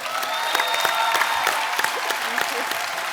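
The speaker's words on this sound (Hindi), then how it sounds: "भारत श्रीलंका के प्यार के लिए बहुत बहुत तालियां।" Studio audience applause on a comedy talk show, dense clapping with sharp individual claps standing out and a faint crowd murmur mixed in, steady throughout.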